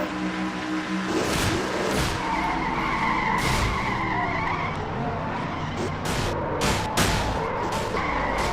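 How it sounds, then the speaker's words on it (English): In a NASCAR-style racing game at Pocono, race cars skid and crash, with squealing tires, hard scraping impacts and roaring engines filling the scene loudly and without talk. "Oh my gosh, that is a bad crash by the 7 and the 5."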